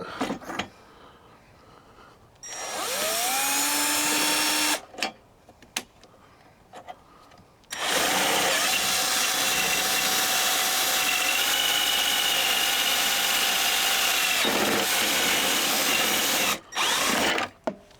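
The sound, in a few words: power drill drilling through plastic motorcycle plate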